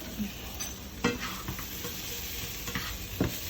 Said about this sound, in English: Let's see if we can stir these onions a little bit.